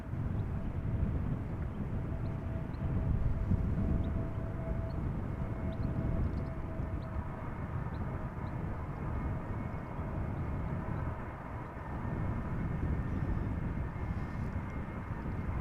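Airbus A320neo jet on arrival at Amsterdam Schiphol Airport in crosswind conditions, a continuous broad engine roar and rumble heard from a distance, steady throughout with wind noise and no talk.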